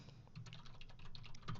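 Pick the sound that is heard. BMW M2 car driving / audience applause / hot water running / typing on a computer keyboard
typing on a computer keyboard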